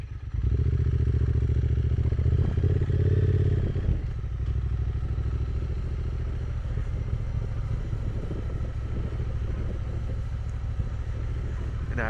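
Triumph Bonneville motorcycle engine rumbling steadily up close as it rides along a narrow, uneven route, with a heavier surge at the start before settling into a constant low drone with light clatter and bumps.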